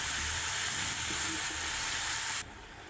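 Carrots and chopped leafy greens sizzle loudly in a hot pan with chicken and paste for a cheese vegetable roll filling, a steady frying hiss that drops sharply near the end.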